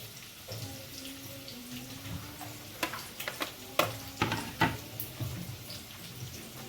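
Mint and coriander being stirred into a pot of Hyderabadi dum biryani, with faint scraping, wet stirring and soft clatter from the spoon against the pot, quiet and close.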